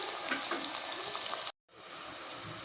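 Sliced onions frying in hot oil for an egg and potato biryani, a steady bright sizzle that breaks off abruptly for a moment, then resumes a little softer.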